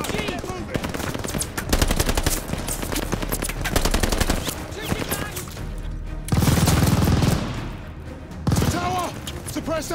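Sustained machine-gun fire from a tower emplacement in Call of Duty Vanguard, loud rapid bursts rattling almost continuously with heavy booming impacts and battlefield chaos layered over it.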